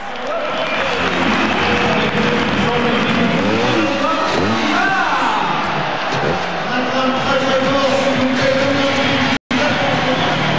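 A trial motorcycle engine revs and sputters at an indoor trial competition in Bercy, Paris, in 1999. The loud rising and falling engine notes echo through the arena over constant crowd noise.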